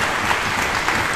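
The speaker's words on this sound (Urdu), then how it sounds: "ان کے لیے بھرپور تالیاں ہونی چاہیے عمران صاحب کے لیے" An audience at a London mushaira poetry gathering claps in a dense, steady burst of applause that fills the whole brief moment.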